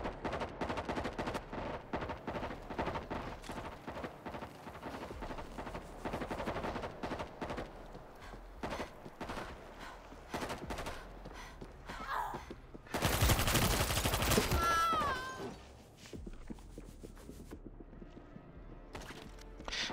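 Rapid bursts of gunfire from World War Z, near and loud, with dense automatic fire early and a sharper, louder volley partway through, then scattered shots trailing off.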